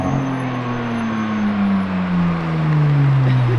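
A car with a newly fitted exhaust drones from close by in a deep, throaty hum whose pitch slides slowly downward as the engine eases off, steady and loud throughout.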